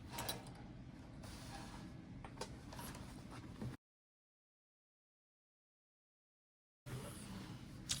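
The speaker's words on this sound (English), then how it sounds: "sew down both sides here, stopping at our cutouts, back stitching at the beginning and end" A sewing machine stitches a seam on a vinyl tote bag with a steady, close mechanical whir, stops for a few seconds of silence, then starts running again.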